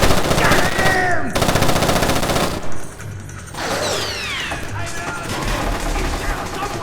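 Gunfire in the video game Splinter Cell: Chaos Theory, loud rapid machine-gun bursts at close range cut by short gaps, with shouting voices mixed in among the shots.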